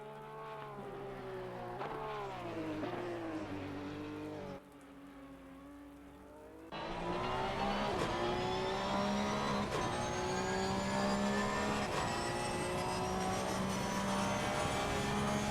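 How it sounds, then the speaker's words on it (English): An older Porsche 911 race car engine roars on track, rising and falling through gears, dropping briefly then surging back louder and sustained for the rest of the run, with no talk. "Just listen to that engine roar."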